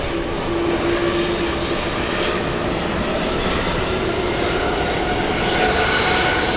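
An Emirates Airbus A380 rumbles at JFK with a loud, steady jet roar and faint tonal engine hums running through it, holding at an even level across the whole stretch.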